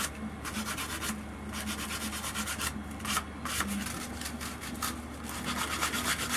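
Hand sanding a carved wooden whale or orca totem for a Native American flute with 150-grit sandpaper, a steady rhythmic rasping of back-and-forth strokes, close and continuous, with no talking.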